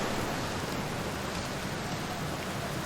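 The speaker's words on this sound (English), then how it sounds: "How is it raining inside this thing?" Steady, dense video game rain falling inside a structure hisses evenly throughout, like a downpour drumming on a nearby surface.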